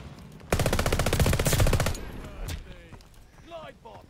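Rapid automatic assault rifle fire in Warzone, a dense sustained burst of about a second and a half, loud and close, followed by scattered quieter game effects and faint distant shots.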